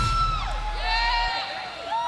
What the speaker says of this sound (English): interview from Buff Bagwell, as well as the heartfelt response from that hometown Georgia Dome crowd